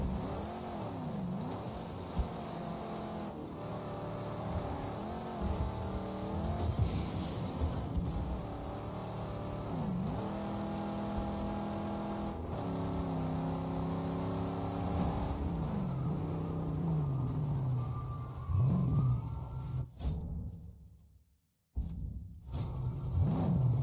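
Car engine in the Mad Max video game, an un-upgraded car taking damage, droning and revving continuously with rising and falling pitch sweeps as it drives, then cutting out briefly near the end before returning.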